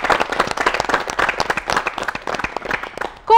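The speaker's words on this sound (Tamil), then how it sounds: "ஒரு நல்ல கைத்தட்டல் கொடுக்கலாமே" Audience at a television event honouring COVID-19 pandemic frontline workers giving a round of applause, many distinct claps close and lively for about three seconds before a brief musical tone cuts in.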